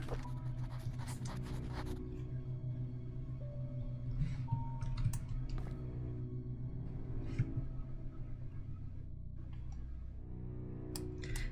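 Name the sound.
typewriter typing in a video game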